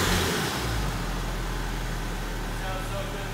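A Nissan 180SX engine revving, a loud low droning roar held steady and close, with voices talking over it.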